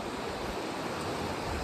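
A river rushes down from Phoksundo Lake beside a bridge on a Nepal mountain trek, a steady broadband wash of flowing water, continuous and fairly near, with no voices.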